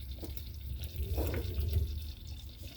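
Hot water splashes and trickles steadily into a jar to sterilize it for pineapple jam, close up, with a low rumbling undertone throughout.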